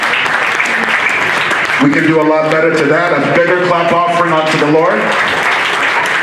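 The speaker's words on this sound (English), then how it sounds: "Let's render a bigger clap offering unto the youth from the playlet that they just did" Church congregation at Mount Zion Chapel's 10th anniversary clapping for a youth playlet, a steady wash of applause running beneath a voice speaking and intoning praise.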